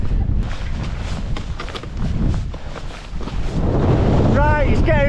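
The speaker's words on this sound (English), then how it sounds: "Right, it's getting really windy now." Gale-force wind in the Langdales of the Lake District buffeting the microphone in heavy rushing gusts that dip briefly then surge back, with a voice breaking in near the end.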